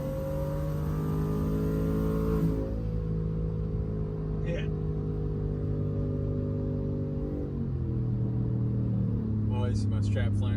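A single-turbo Ford F150 pickup makes a first-gear pull, its steady engine drone rising gradually then easing off, heard from inside the cab at moderate level, with a brief voice in the background.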